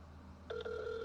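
Phone ringing, a brief electronic ring tone that starts halfway through with a sustained two-tone ring, faint and slightly distant under a low room hum.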